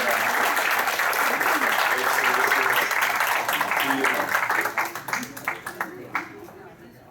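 Sustained round of applause from a group at a farewell presentation during a senior Friday meeting, dense clapping that builds and holds, then thins into scattered individual claps near the end, with a brief spoken phrase near the start.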